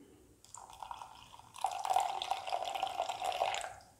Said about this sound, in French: Voilà, je mets mes 100 d'eau.